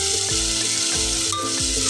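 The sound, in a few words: egg pulusu masala frying in oil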